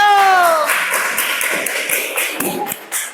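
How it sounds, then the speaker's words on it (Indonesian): A classroom of students claps for group 4, a short burst of scattered hand claps following the fading tail of a tonal sound, with a few louder individual claps near the end. "tepuk tangan untuk kelompok 4"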